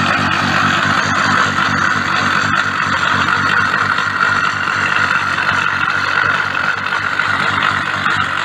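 A car engine idles steadily during a boost bottle fuel economy test, a continuous close, loud mid-pitched rumble with a regular pulsing beat and no voices.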